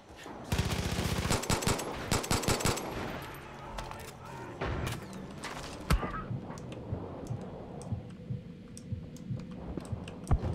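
Far Cry 5 gameplay: rapid bursts of automatic gunfire and sharp single shots rattle close and loud, thinning into scattered clicks and distant shots, with a voice talking faintly underneath.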